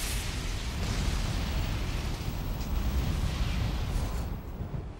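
A Yagluth boss explosion in the video game Valheim: a dense, roaring blast of broadband rumble that stays loud and sustained for about five seconds, then eases slightly near the end.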